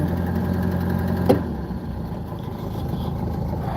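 A Cushman Spraytek engine idles quietly close by, giving a steady, even low hum and throb with one brief clack partway through.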